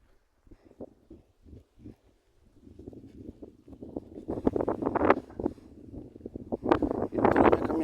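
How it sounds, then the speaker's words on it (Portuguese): Strong wind buffets a microphone outdoors on a morning walk, coming in irregular gusty bursts that grow louder and more constant toward the end. "Você está batendo muito vento aí, pessoal. Tá ventando bastante aqui."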